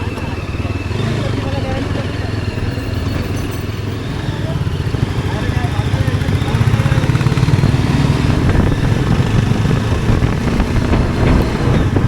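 A motorcycle engine drones steadily throughout, ridden slowly, growing slightly louder partway through, with wind buffeting the microphone as it rides on a road in Matheran after the first rain.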